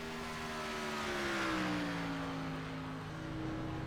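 A NASCAR Gen 6 race car at Daytona International Speedway in the iRacing game, its engine droning steadily with a slowly shifting pitch as it gets up to speed, close and continuous, no voices.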